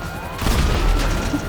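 Explosion and gunfire from GTA Online: a loud boom lands mid-clip, followed by a dense, sustained crackle of shots and blasts.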